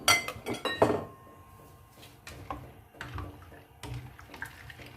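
A spoon stirs ingredients in a large cooking pot (degchi) for daal gosht, with a quick burst of metallic clinks up front, then softer scrapes and occasional taps, close by.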